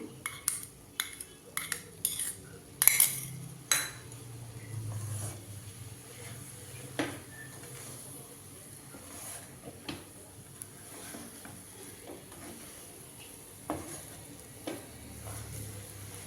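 Ghee poured into a pan and rava (semolina) frying while being stirred for rava urundai. A few sharp spoon clinks against the pan come first, then a quiet sizzle with occasional scraping taps, and no voices.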